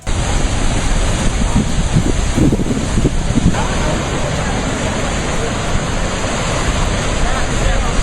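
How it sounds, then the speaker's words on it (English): Ocean surf crashing and rolling in a steady loud roar of breaking waves, with wind buffeting the microphone throughout and no clear talk. "Waves can become dangerous faster than we expect, but they seem to underestimate the power of the sea."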